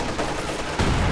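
MG42 machine gun fire in Company of Heroes 2 rattles in a dense, continuous burst, loud and close, swelling slightly toward the end amid other battle noise.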